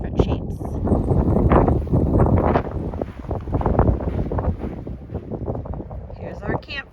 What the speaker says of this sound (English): It's extremely windy, so I'm just gonna get into the tent.